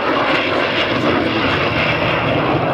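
A restored vintage aeroplane flies overhead at the Duxford Autumn Airshow, its engine a loud, steady, broadband roar that fills the whole moment without letup or voices.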